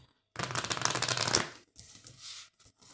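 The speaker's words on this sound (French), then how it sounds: "on va mélanger un petit peu" Tarot cards being shuffled by hand in a quick, dense riffle lasting about a second, followed by a few shorter, softer bursts of card handling, close and alone.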